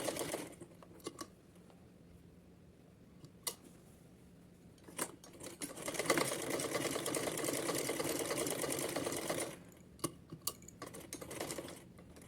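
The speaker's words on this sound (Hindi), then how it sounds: "तो इधर ऐसे सिलेंगे" A domestic sewing machine stitches fabric for a small Kanha ji outfit. Faint clicks and handling noises give way to a steady, close whir of stitching that runs for several seconds, then stops and more light clicks follow.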